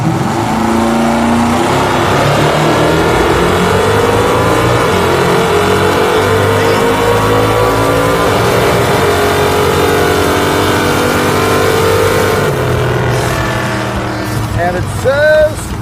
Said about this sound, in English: This thing is leaving hard on the nitrous, but unfortunately, it's also spinning the tires and slowing me down.